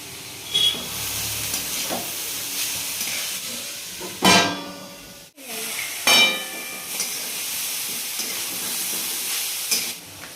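Carrot fry being stirred in a pan over a medium flame, a steady sizzle broken by several loud scraping bursts of the spoon against the pan.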